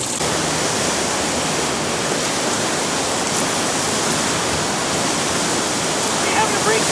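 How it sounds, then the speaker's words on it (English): Rushing whitewater of the whirlpool rapids in the Niagara Gorge, where the whirlpool meets the lower river: a loud, steady, broadband roar that fills the whole clip without a break, heard close up with no talk. "Whirlpool rapid right here, all going to the Twin Rapids here."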